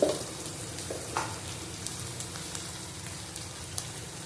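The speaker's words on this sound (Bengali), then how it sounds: "আবার ভালো করে কষিয়ে নেব" Okra and potatoes sautéing in a pan with salt, turmeric and chilli powder, a steady close sizzle and crackle running throughout, with faint stirring and no voices.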